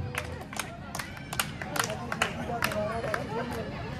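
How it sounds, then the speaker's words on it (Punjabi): Scattered audience claps ring out at a live devotional chowki for Baba Balak Nath ji, sharp hand slaps over a dense murmur of crowd chatter and background music, moderately loud and irregular. "ਤਾੜੀ ਦੀ ਆਵਾਜ਼ ਕਿਉਂ ਵੱਧ ਹੋ ਜਾਵੇ"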